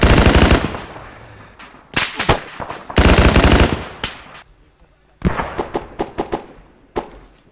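Automatic gunfire in the military shooter game Arma 3 during convoy training: loud, rapid bursts of shots, several separate volleys with short pauses between them and sharp cracks trailing off.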